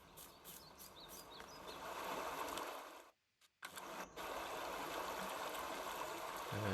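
A river in the Farming Simulator 19 game flows as a steady, continuous rushing wash, with a low engine-like hum mixed in and a brief dropout partway through, with no talking.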